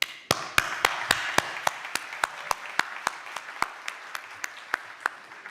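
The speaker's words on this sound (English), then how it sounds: "I call for a round of applause to welcome them" Applause welcoming the opening ceremony speakers at the Accessible Europe ICT 4 ALL conference: a steady audience clapping with sharp, regular individual claps standing out near the microphone, running throughout.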